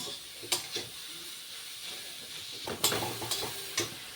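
Grated carrots stirred in a pan for carrot halwa with sugar, cashews and cardamom, a soft sizzle broken by a few sharp scraping strokes near the start and a cluster near the end.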